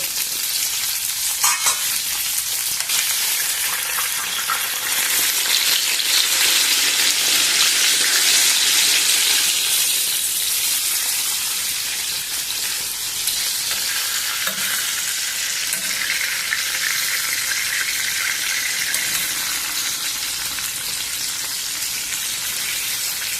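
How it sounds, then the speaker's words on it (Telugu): Brinjal pieces fry in oil in a pan, a continuous bright sizzle with scraping stirs as the spoon turns them, steady and close with no talk. "వంకాయలు బాగా వేగిపోయినాయి"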